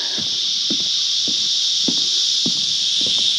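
Cicadas buzz in a steady, high, continuous drone, with soft, irregular footsteps or rustles thumping faintly underneath.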